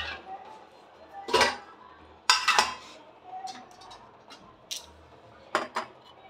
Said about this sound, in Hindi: अब इसको हम जब तक ये बॉयल नहीं हुई जब तक इसको हम ऐसे ही चलाते रहेंगे